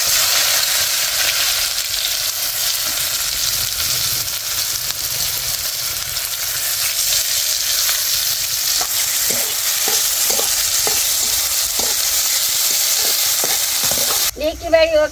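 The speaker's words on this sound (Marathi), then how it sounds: "आता कांदा टाकीते परतायला." Onions fry in hot oil with mustard seeds, cumin and garlic, a steady, loud sizzle with periodic scraping stirs toward the end and a short clatter at the close; no one speaks.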